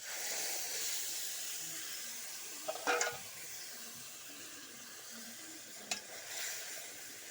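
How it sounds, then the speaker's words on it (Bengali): Boal fish paste hits a hot wok and sizzles with a steady hiss. Two short, sharper bursts of spatter or stirring rise above the frying, and no one speaks. "কড়াইটা গরম হয়ে গেছে ঢেলে দিব না"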